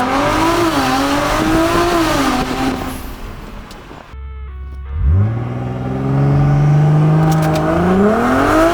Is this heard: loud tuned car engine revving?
yes